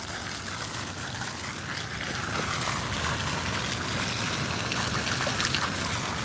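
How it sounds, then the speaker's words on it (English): A Philadelphia fountain pours and splashes in a steady, broadband rush of falling water, fairly close and constant throughout, with no voices over it. "So yes, there's a fountain here."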